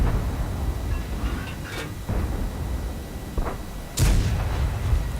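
Tank cannon shots in World of Tanks: a sharp, loud boom near the end over a rumbling engine and battle background, with a few fainter distant thuds earlier.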